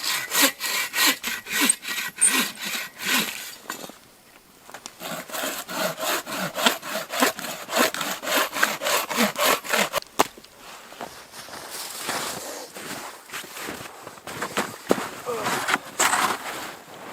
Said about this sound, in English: If I can't cut through something with that saw, then it's too long.